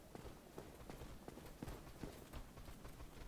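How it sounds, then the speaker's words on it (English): Footsteps of several figures in Dark Souls II's Crown of the Sunken King DLC region, a quick irregular patter of soft steps, faint and distant, with no voices over them. "I can hear a bunch of footsteps"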